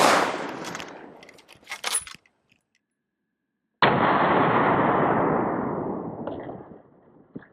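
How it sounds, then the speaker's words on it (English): A .30-06 armor-piercing round fired from a 1903 rifle at about 10 yards into a lightweight Level IV armor plate: a loud, sharp report followed by a long decaying ring. No one speaks. "30-06 that you guys can see there with the AP projectile armor penetrator out of the 1903 here"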